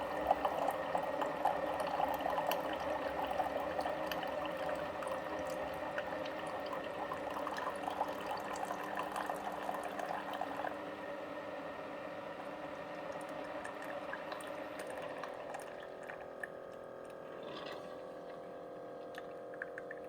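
Keurig coffee maker brewing an 8-ounce cup through a Perfect Pod reusable pod with a paper filter, a steady hissing, gurgling stream of hot water that thins and sputters toward the end.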